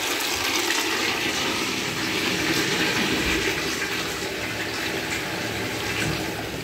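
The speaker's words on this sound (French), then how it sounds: "mettez la main sur votre cœur et tirez le chasse d'eau" A wall-hung toilet flushes in a bathroom, giving a steady loud rush of water that holds for several seconds without easing off, with no talking over it.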